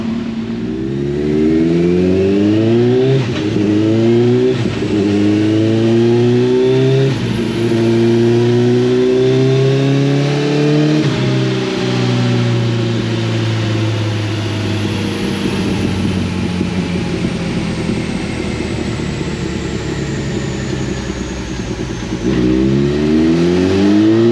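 A Kawasaki ZX14R sportbike engine is revved hard on a dyno, climbing through the gears in loud rising pulls, then winding up in one long sustained high-rpm run before dropping off and climbing again.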